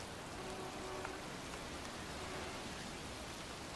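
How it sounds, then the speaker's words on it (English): Steady, dense pouring rain falls in a cemetery in the video game Heavy Rain, a continuous even hiss with no voices over it. "standing in a cemetery in pouring rain"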